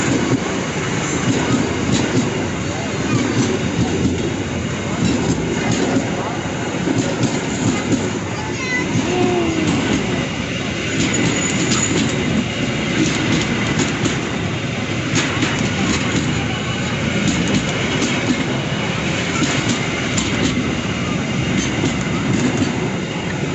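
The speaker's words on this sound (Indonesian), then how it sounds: "panjang sekali nih kereta gerbong datar nih untuk mengangkut peti kemas" A long freight train of flat container wagons rumbles steadily past at close range beneath a road flyover at Jatinegara Station, Jakarta, wheels clattering over rail joints in an unbroken stream of heavy mechanical noise.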